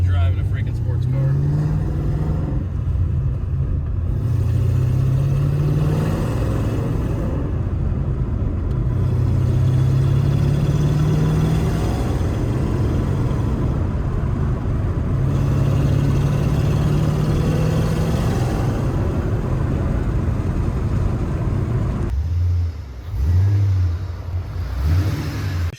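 A Cummins-powered dump truck fitted with exhaust clips rumbles under load, its engine rising and falling through several revs over a steady drone, with people talking over it.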